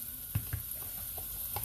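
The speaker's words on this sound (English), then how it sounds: "we're going to sweat out the garlic first before we move on to the next step" Minced garlic sweating in a pan gives a soft, steady sizzle, with a few duller knocks from stirring rising briefly above it. It is close and fairly quiet.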